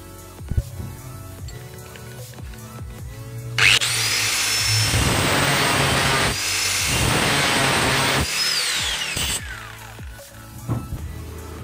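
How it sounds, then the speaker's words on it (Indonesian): A power tool cuts a 4 mm pin for a speargun trigger mechanism with line release, a loud steady whine of about six seconds with a brief dip midway, framed by quiet workshop handling sounds. "Oke, kita potong dulu pennya."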